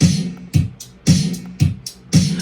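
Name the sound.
808-style hi-hat in GarageBand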